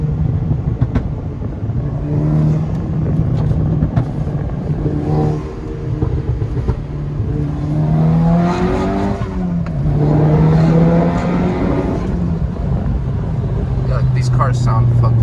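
Inside the cabin of a Mk6 Golf R while driving, the engine drones and rises and falls through several revs, with a few sharp exhaust pops, as someone talks over it almost throughout.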